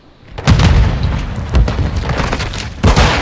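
Grenades explode in a Call of Duty multiplayer match, three loud, close booms about a second apart, each followed by rumbling debris and noise.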